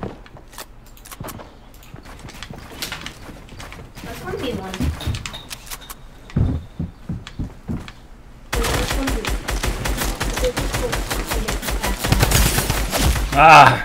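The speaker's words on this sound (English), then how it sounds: "the drum gun is so off right now" Drum gun firing in Fortnite, heard as rapid bursts of automatic fire that grow dense and continuous in the second half, with a voice talking over the early part.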